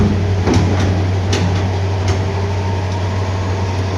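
An IFB top-loading washing machine with an abnormal noise gives off a steady, loud mechanical hum and whirring drone, with a few faint clicks or knocks, continuous throughout with no voices.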